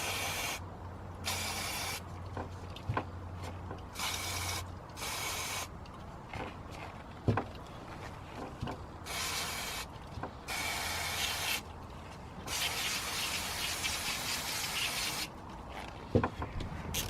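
Aerosol cleaner sprayed onto a removed BMW N47 mass airflow sensor, several loud hissing bursts of varying length separated by brief gaps, close to the microphone.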